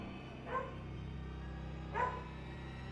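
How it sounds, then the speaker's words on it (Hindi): A dog barks outside a window, two short distant barks about a second and a half apart with a third starting at the end, faint over a steady low hum. "खिड़की के बाहर एक कुत्ता उसे देख बार बार भौंके जा रहा था"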